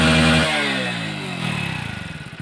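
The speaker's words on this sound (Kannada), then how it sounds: "ಅದು ಸ್ಟಾರ್ಟ್ ಮಾಡ್ತೀನಿ ಗಾಡಿ." A Hero Splendor Plus motorcycle with a modified exhaust fires up close by, giving a loud opening roar that eases off and settles into a rapid, steady throbbing idle, with no voices over it.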